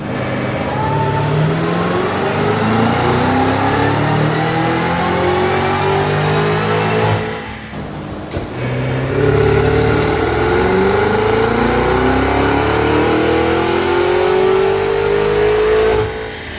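Cadillac CT5-V Blackwing engine on a dyno with a JLT intake, loud and close, revving up through the gears in long rising pulls with a short drop between shifts, alone with no talk.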